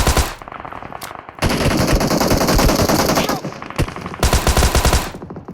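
Rapid automatic gunfire from the mobile battle royale game BGMI, with loud sustained bursts broken by short pauses and a final burst near the end, and no voices over it.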